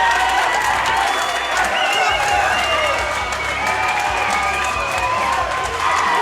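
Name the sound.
fight crowd cheering and applauding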